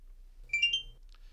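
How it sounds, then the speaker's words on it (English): A brief electronic beep from a Fluke Networks CertiFiber Pro fiber tester right after an MDC connector is plugged in, a short bright tone with a faint trailing blip, alone and fairly quiet. "we get the beep, the happy noise"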